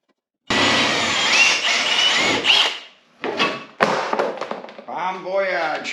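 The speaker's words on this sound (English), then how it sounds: "Drill them out." A power drill grinds steadily for a few seconds, then stops and restarts in short bursts while drilling out rivets on a Ski-Doo Rev MXZ 550F snowmobile tunnel, followed by a voice speaking close by.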